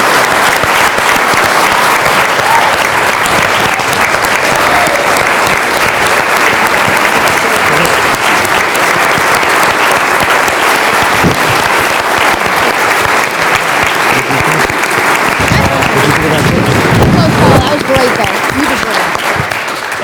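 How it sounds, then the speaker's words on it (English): A large audience at a national mock trial championship gives sustained, dense applause for two competing teams, a continuous wash of clapping at steady loudness for twenty seconds with faint voices underneath. "I think these two amazing teams deserve a round of applause"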